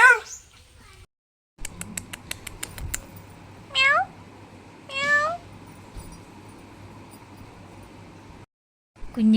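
A pet cat gives two clear, rising meows, close by in a quiet home, preceded by a quick series of light clicks.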